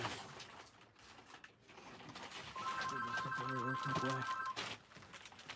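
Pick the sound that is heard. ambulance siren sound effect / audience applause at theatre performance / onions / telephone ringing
telephone ringing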